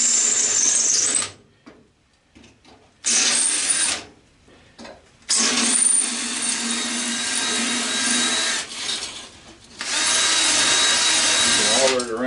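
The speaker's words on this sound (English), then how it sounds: "You can auger it around a little bit." An auger drill bores into an aluminum TV antenna being scrapped, giving a loud, close grinding whine in several long bursts with short breaks between them.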